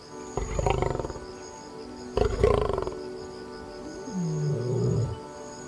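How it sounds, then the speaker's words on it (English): An African lion roars in the Masai Mara grasslands, a series of deep, resonant grunting roars in two strong bursts followed by a lower, fading moan, carrying clearly with no talk. "The deep, resonant roar of the African lion."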